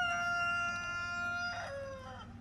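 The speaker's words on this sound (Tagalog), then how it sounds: "pero daghan kay ni silang mga manukan" Chickens on a farm in Sweden: a rooster crows close by, a clear drawn-out call with a falling end, over a low steady background.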